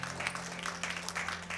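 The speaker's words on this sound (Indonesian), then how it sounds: "Boleh kita beri tepuk tangan yang terbaik." Applause from a church congregation at a sermon, a short burst of dense clapping with a steady low hum underneath, fairly close and even, with no talking.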